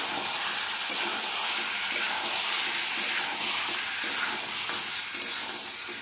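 Chicken pieces with bone and skin sizzling in a pan as a little tomato sauce is stirred in, a steady loud frying hiss with occasional soft scrapes of the spoon, no talking.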